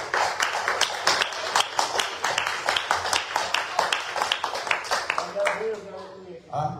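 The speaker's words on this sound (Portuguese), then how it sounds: "as palmas bem fortes é para o Senhor Jesus" A church congregation claps hard in a fast, steady rhythm of sharp strikes that fills the room, thinning out near the end as a voice comes in.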